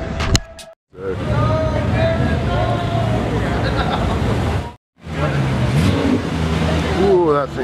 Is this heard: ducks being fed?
no